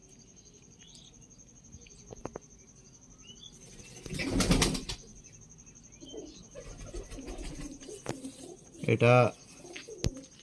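High-flying Dubai breed pigeons, with soft cooing and a couple of sharp bursts of wing flapping close by, against a quiet background of crickets and faint voices.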